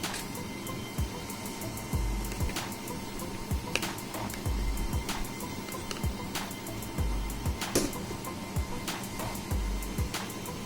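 An office printer/copier starts up after a toner change, giving a steady mechanical whir with repeated soft clunks and clicks at roughly regular intervals, moderately close and without talk.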